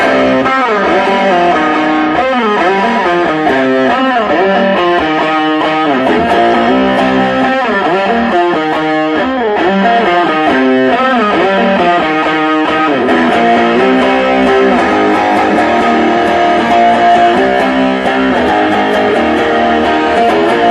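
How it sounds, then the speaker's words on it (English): An electric guitar runs straight through an old amp with no pedals, giving a continuous, loud, gritty overdriven sound with shifting chords and riffs throughout. "were completely just a guitar through an old amp"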